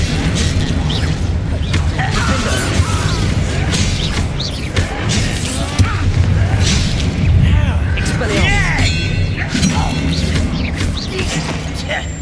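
Bombarda and Confringo spell blasts in Hogwarts Legacy combat, a sustained series of heavy booms, crashes and thuds with shouted incantations and other voices mixed in.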